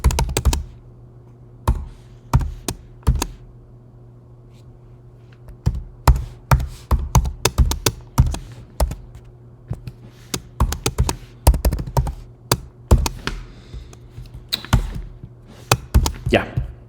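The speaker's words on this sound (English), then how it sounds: "So let me carefully type in" Keys on a computer keyboard are typed in short, irregular bursts of crisp taps, with pauses between runs, close up over a faint steady hum and no talking.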